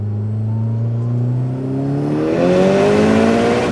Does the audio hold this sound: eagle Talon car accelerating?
yes